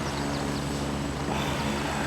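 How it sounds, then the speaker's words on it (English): A military helicopter departs in the video game Gray Zone Warfare, a steady droning rotor and engine whir that holds at an even level throughout, without speech. "Okay, the helicopter's leaving. The helicopter noises really annoy the crap out of me."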